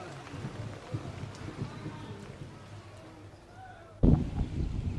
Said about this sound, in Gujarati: રાજસ્થાનના 12 જિલ્લામાં પણ સતત 2 દિવસથી વરસાદ વરસી રહ્યો છે।